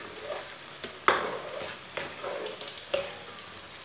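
Potato and spinach pakoras fry in oil as they are turned, giving a continuous close sizzle with a few sharp clicks of a utensil against the pan and no voices.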